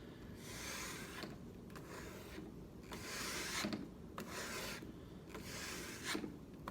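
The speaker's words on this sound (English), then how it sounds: "I'm sure that you all can hear the bite of the leather on the steel" A knife blade drawn along a leather strop in repeated rhythmic passes of soft rasping strokes, about one per second, close but quiet, with no talking.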